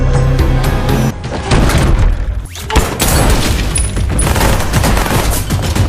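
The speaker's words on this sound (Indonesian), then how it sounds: "Terjadi baku tembak menegangkan di dalam kamar" A loud, dense gunfight in a room from an action movie scene, with rapid overlapping gunshots and bursts, heavy booms and clattering impacts filling the whole stretch and only a brief lull.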